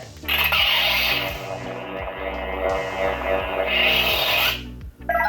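Lightsaber ignition sound font called Scavenger, a loud crackling, distorted rasping hum with a harsh flaring burst at the start and a gritty pulsing buzz sustained for several seconds before cutting off.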